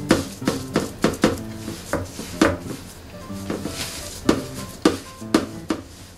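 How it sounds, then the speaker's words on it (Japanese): Coarse salt being poured and patted onto a metal oven tray for salt-crust baking, heard as a series of close, sharp scraping and tapping knocks in an irregular rhythm with brief pauses, no voices. "塩釜焼きに使うオーブンの板、これに、塩釜焼きの塩を乗せますと"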